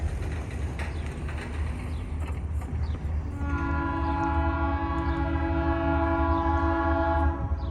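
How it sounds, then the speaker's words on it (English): A CSX train rumbles past steadily on a street-running track while its horn sounds a long, sustained blast over the rolling noise, loud and near. "Here comes the train."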